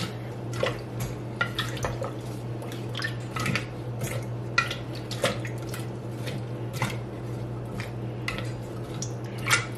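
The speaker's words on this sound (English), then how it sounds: "I'm going to stir this up" Apples stirred in a pot with liquid while making apple butter, wet squishing and sloshing with scattered clinks of the spoon against the pot over a steady low hum, close and irregular.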